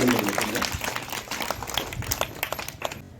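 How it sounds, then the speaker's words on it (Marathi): Children clap in applause at a school assembly, making a dense patter of close claps over a few seconds, mixed with voices. "त्यांचं आपण सर्व टाळ्या वाजून स्वागत करूया"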